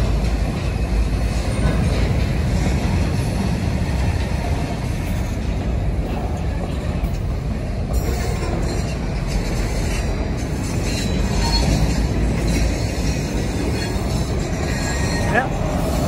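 A Union Pacific local freight train moves empty cars along a spur at a distribution center, giving a continuous loud rumble and rolling clatter with faint squeals, heard near for about sixteen seconds.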